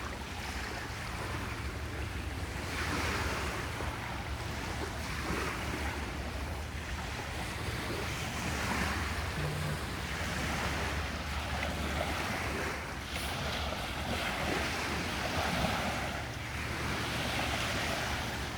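Waves break on a beach in a slow, repeating wash of surf, with a steady roar that swells and recedes every few seconds, heard up close and without voices.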